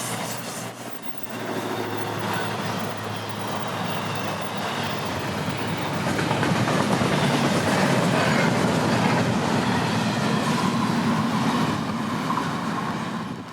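A Florida East Coast Railway intermodal freight train hauling trailers and containers rolls past at track speed, a loud, continuous rumble and wheel clatter that swells and holds for the full length, with no voices.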